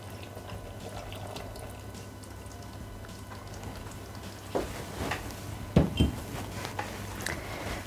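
Milk poured into a Thermomix bowl while making an eggless chocolate ring cake, a soft splashing trickle with a few louder clinks and splashes toward the end over a steady low kitchen hum.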